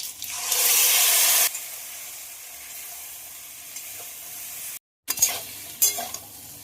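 Green banana and potatoes fry in a pan as turmeric, salt and ground spice paste go in. A loud burst of sizzling gives way to quieter stirring and scraping, then after a brief silence fresh sizzles flare up.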